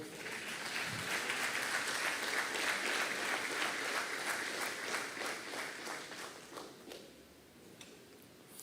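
A church congregation applauds together in a loud, dense wash of clapping that swells early and gradually thins and fades toward the end.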